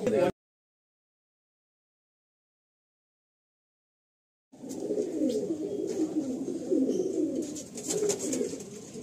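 Pigeons cooing in a loft at Barasat, a dense, continuous murmur of overlapping low coos from many birds nearby. A brief sound opens the clip, then a few seconds of silence before the cooing begins.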